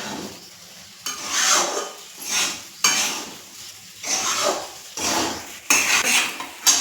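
Soaked sabudana is stirred in a pan with a metal spoon, heard as close, rhythmic scraping strokes in bursts, several in a row with short pauses and a faint sizzle underneath, no talking.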